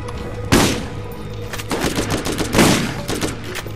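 Assault rifle fire in the Borderlands shooter game: loud sharp shots in quick irregular bursts, with a heavier blast near the start and another toward the middle, amid game combat noise.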